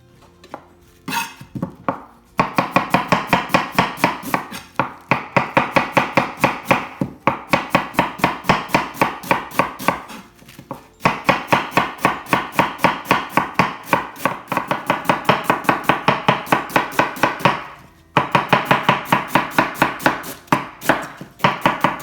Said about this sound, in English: So there we have our cabbage shredded.